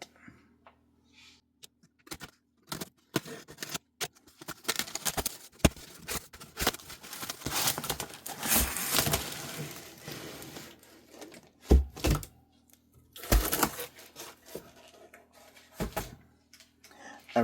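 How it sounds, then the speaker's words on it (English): Packaging around a Hot Toys Wolverine figure is unwrapped by hand, with scattered crinkles, rustles, tearing and light knocks that come in irregular bursts and are close and moderately loud. "So let's just unwrap this and see what we got."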